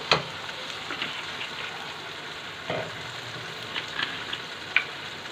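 Masala frying in a pan with soy sauce and chili sauce for a beef paya dish, a steady sizzle with occasional stirring clatter, close and moderate in level, no talk.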